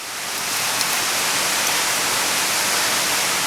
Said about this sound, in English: Sorry about the noise of the rain.